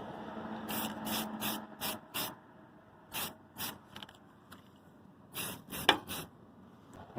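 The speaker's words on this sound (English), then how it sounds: "And then you spray paint." A spray can paints a metal trailer part at home, giving short hissing bursts of spray separated by pauses, some bursts in quick pairs, fairly close and moderately loud.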